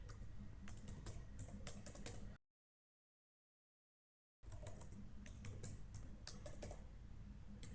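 Rapid keystrokes on a computer keyboard while a DSRM password is entered during Windows Server setup, steady and close, broken by a two-second silent gap before the typing resumes.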